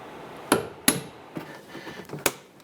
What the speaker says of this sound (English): We're going to use our punch. And we're going to go ahead and loosen these